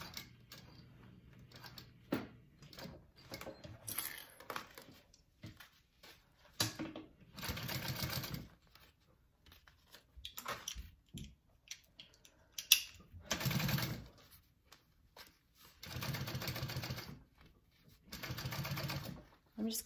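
A sewing machine top-stitches a handbag in several short bursts of rapid mechanical stitching, separated by pauses with faint handling noises.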